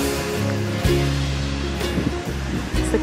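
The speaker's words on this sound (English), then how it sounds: "It's the Caribbean Sea." Caribbean Sea waves wash onto a Jamaican beach in a steady, rushing surf with soft breaking swells, while music and a few faint voices carry underneath.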